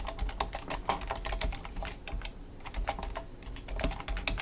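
Computer keyboard typing while writing HTML code, a steady run of close, crisp key clicks in an irregular rhythm with a short pause midway, with no talk.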